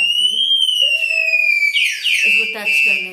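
A scooter's anti-theft lock alarm sounds nearby with loud electronic tones that slide and warble up and down, while a voice is briefly heard around it.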